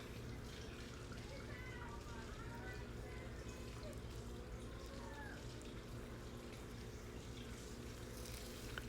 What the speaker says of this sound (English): You can rinse them off if you want to make it easier to take the seeds off.